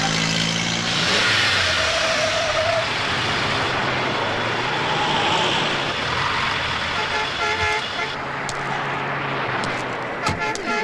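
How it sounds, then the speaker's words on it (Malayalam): A car pulls over on a road with its engine running, a steady mid-pitched motor hum with some revving and a short horn toot, loud and close, with other traffic noise around. "വണ്ടി ഒതുക്കിടാ."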